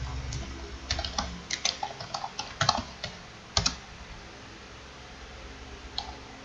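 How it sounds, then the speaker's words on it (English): Computer keyboard keys clatter close up in a quick burst of uneven typing, then trail off into a few isolated taps over a quiet background. "let's type in hey"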